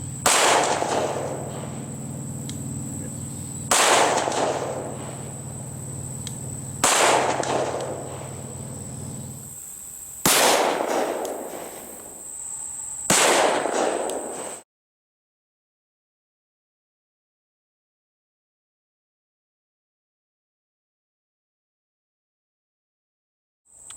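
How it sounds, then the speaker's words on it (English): A Glock 22C with a full-length compensated barrel fires Hornady Critical Duty 175-grain .40 S&W hollow points into ballistic gel: five loud, sharp reports spaced about three seconds apart, each ringing briefly, then silence. "the gun used for the 40 caliber test will be the Glock 22C, full length barrel, but it is compensated"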